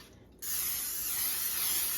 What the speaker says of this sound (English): So we're just going to spray our baking sheet